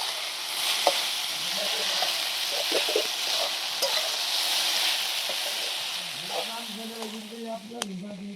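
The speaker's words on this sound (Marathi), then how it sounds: "आता मीठ टाकून ते चांगली परतून घेणार आहे" Okra sautéing with salt in a pan gives a steady, close sizzle and hiss, broken by repeated stirring scrapes and light clicks of a spatula against the pan; a voice is faintly heard.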